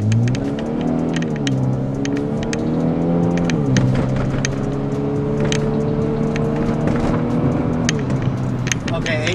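Hyundai Veloster Turbo accelerating hard from a stop in a 0-60 run uphill, heard from inside the car, engine tone climbing steadily through the gears with a couple of shift dips, loud and continuous.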